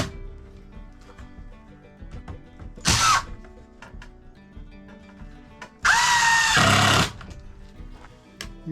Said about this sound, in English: I'm going to put 4 screws in it just because I've got 4 screws.